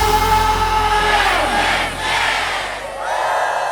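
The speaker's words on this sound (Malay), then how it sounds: "Tuan-puan, berikan tepuk tangan lebih gemuruh lagi tuan-puan." A large crowd at an event roars and cheers in a sustained, loud wash of voices that swells and dips, with no distinct speech over it.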